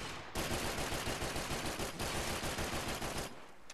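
Dense, continuous automatic gunfire from the video game Max Payne 3, loud and close, with rapid overlapping shots sustained for several seconds before cutting off abruptly.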